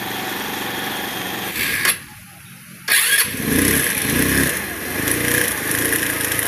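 A Motor Star Easy Ride 150N motorcycle engine revs loudly, cuts out briefly to near silence, then roars back and keeps running with rising and falling throttle.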